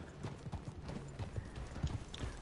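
Hooves of a horse in the video game Red Dead Redemption 2 pound out a steady, rapid galloping rhythm over a dense background, moderately loud and without speech.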